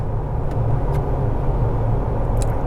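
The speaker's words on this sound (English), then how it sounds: "So we're gonna pull out here and speed up a bit." Jeep Wrangler TJ on 4.88 gears and 32-inch tires pulling out from a stop and speeding up, a steady, loud low engine and road rumble heard from inside the cab with no speech.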